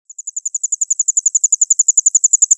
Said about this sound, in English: I hope you're hearing the crickets.